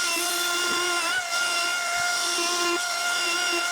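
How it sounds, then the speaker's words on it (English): A router fitted with a trim bit runs steadily while trimming laminate edges on a repair job, a continuous high whine with a lower tone that dips briefly now and then, close and loud throughout. "We're ready for the routing trim bit."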